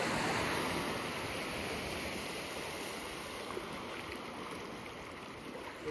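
Water flowing abundantly at an outdoor pre-wedding shoot location, a steady broadband rushing wash like a stream, constant and moderately close with no voices.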